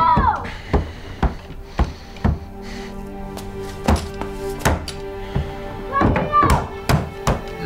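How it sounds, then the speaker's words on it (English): Heavy fists pound on a locked door in irregular bursts of loud, close thuds, some quick pairs, with faint voices heard between the blows. "Banging on the door, yelling and let me out."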